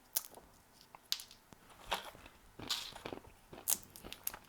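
Sharp, close crunches and cracks come one after another at an irregular pace as sunflower seeds are cracked between the teeth and chewed, with no talking.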